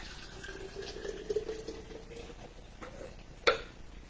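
Water trickles and splashes into a jar, a soft uneven pour with a brief sharp clink near the end.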